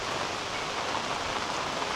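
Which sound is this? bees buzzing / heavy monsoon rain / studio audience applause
heavy monsoon rain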